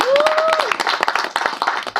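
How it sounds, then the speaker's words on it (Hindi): Audience clapping at the promo launch of a reality dance show, quick dense hand claps close by, with a brief whistle or tonal call and some voices over the top. "सो नाचेगा इंडिया टीम के लिए तालियां हो जाएं यार"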